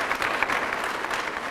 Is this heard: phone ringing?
no